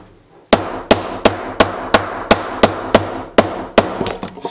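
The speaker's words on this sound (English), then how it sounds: "And I just take my plastic hammer" A plastic hammer tapping guitar frets into place on a fretboard, about eleven sharp, evenly spaced knocks, close and loud, each with a short ring-out.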